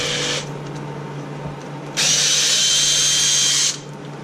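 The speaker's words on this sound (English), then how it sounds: "Drill the hole slightly larger so that the screw doesn't" A power drill whines briefly, stops, then runs again for a couple of seconds at close range over a low background hum, enlarging a screw hole on a Simplicity tractor snowblower.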